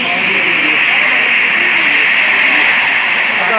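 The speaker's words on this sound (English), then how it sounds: "We're gonna be signing off with the commercial jet takeoff" A commercial jet takes off with a loud, steady, close roar of engine noise that fills the whole stretch without pause or talk.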